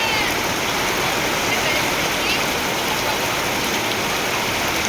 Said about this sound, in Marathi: खूप मोठा पाऊस आहे इकडे.